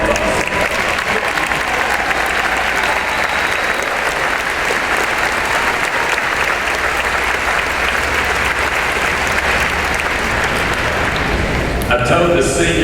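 A high school graduation audience applauds parents and grandparents of the seniors, a loud, sustained wash of clapping from a large crowd that runs unbroken, then briefly shifts near the end.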